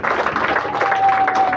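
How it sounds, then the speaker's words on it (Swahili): A church congregation at a Sunday service claps steadily and densely, close and continuous, with a faint tone and some voices underneath. "Tumpe Bwana Yesu makofi mazuri."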